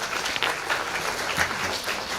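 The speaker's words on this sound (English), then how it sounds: "Let's welcome him with a huge round of applause," An audience at a stage event applauds to welcome the chief guest, a steady wash of clapping from a crowd heard at a moderate distance throughout.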